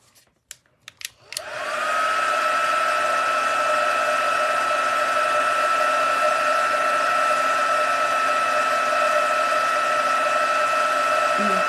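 A craft heat tool blows a loud, steady whirring drone while heating powder for glitter, starting abruptly after a few faint clicks and holding constant to the end.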